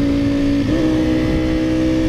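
A 2018 Ducati Panigale V4R motorcycle engine holds a loud, close, steady high-pitched howl at high revs with a brief pitch shift, and no voices.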